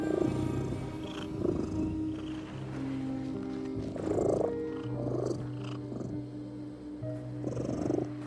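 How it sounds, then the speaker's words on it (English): A cat in the horror video game The Midnight Walk purrs deeply and steadily up close, its rumbling breaths rising and falling in a slow rhythm over a low background. "Oh, the cat."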